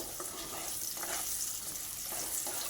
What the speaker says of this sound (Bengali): এবার এই আলুগুলোকেও খুব সুন্দর করে ভেজে নেব।